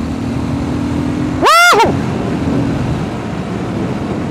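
A Triumph Scrambler 1200 XE motorcycle rides through central Warsaw: a steady engine drone, a brief loud rev that rises and falls in pitch, then the drone settles back, close by and with no talk.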